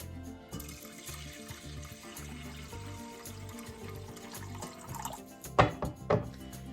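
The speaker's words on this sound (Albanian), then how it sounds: "Do i hedhim edhe ujë." Water poured over washed rice with cardamom in a bowl, a soft steady running and trickling stream that grows in the last second with a couple of splashy clinks.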